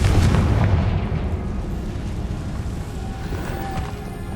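The Confringo fire spell explodes in Hogwarts Legacy with a heavy, rumbling boom that starts loud and slowly decays into a low roar.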